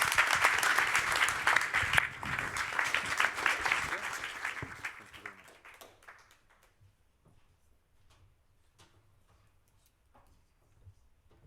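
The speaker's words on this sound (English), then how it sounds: "And let's clap." Audience applauding at the close of a pandemic-preparedness panel discussion, a dense burst of clapping that fades out over several seconds into near silence with a few scattered claps.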